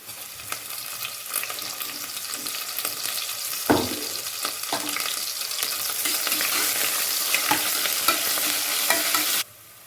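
Onions with crushed ginger and garlic sauté in a pan with a close, loud sizzle that builds steadily, punctuated by scraping stirs and a sharp clatter, then cuts off abruptly near the end.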